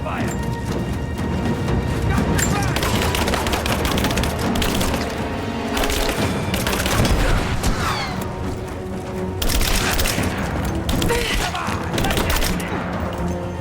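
Rifle gunfire and crashing explosions in the video game Rise of the Tomb Raider, dense repeated shots and impacts filling the whole stretch amid constant game noise.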